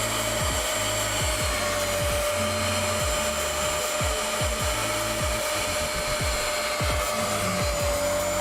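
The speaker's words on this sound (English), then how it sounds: "you literally just want to use the suction head of the wetback or extractor" A carpet extractor's suction head pulls cleaning solution out of Alcantara seats in a Mercedes C43 AMG, a loud, constant motor whine with a high tone, broken by repeated short gurgling pulls as the head passes over the fabric.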